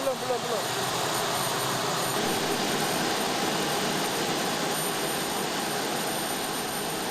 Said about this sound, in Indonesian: Ketegangan mereka tampak ketika harus mengatur pesawat-pesawat yang memaksa mendarat di Bandara Polonia Medan